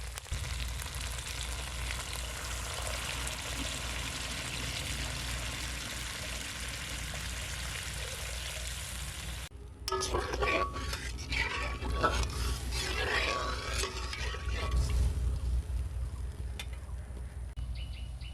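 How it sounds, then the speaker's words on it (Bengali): A spiced masala frying in oil for a banana-flower and egg curry gravy hisses steadily, then water goes in. The sizzle breaks into louder, uneven bubbling and spluttering with a few faint clinks of the pan. "এখন ঝোলের জন্য জল দিয়ে দেবো"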